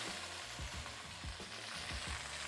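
Steaks sear in a hot pan with a continuous low sizzle and soft crackling, fairly quiet and steady for a couple of seconds with no talking.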